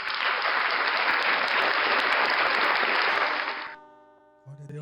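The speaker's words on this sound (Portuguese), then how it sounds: "Aplaudam o Senhor no nome de Jesus." A church congregation during a worship service bursts into dense, sustained applause for nearly four seconds, then it fades out and a voice speaks briefly.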